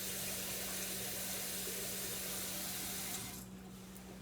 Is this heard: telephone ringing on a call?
no